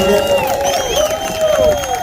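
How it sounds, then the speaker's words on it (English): A crowd at a community event cheers and applauds for the sheriff and Shaq, with overlapping whoops and shouted voices riding over a continuous bed of clapping throughout. "Can we get a round of applause for the sheriff and for Shaq?"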